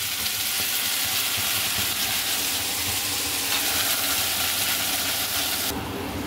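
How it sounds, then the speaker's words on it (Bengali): Onion paste with spices fries over a medium-high gas flame in a pan, making a continuous close sizzle and hiss that drops away abruptly near the end, with no voices. "পেঁয়াজের পেস্টটা একটু ভাজা ভাজা হয়ে এলে"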